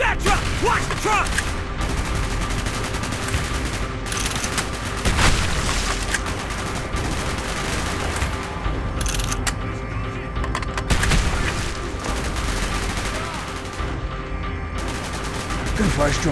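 Loud bursts of rapid gunfire and heavy booms crackle throughout, with intermittent shouting voices mixed in amid the battle noise, in the video game Call of Duty: Black Ops, near vehicles and a truck.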